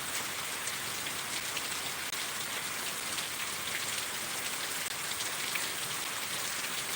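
Rain falls steadily, a dense hiss of drops pattering on surfaces, even and unbroken from start to finish.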